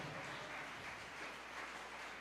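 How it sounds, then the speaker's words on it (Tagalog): A congregation claps loudly and steadily during a church service in San Carlos City, Pangasinan; dense, continuous applause fills the room at a fairly low overall level, with no talking over it. "Lahat ng may gift of God sa bawat isa sa atin, pumalakpak ng malakas sa ating mahal na Panginoon."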